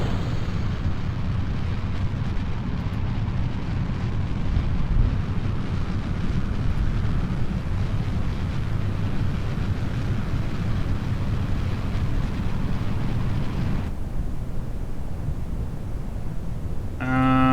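Rocket launch in the Kerbal Space Program video game, a full rocket lifting off with a loud, steady broadband engine roar that rumbles low and continues for most of the span before dropping off near the end.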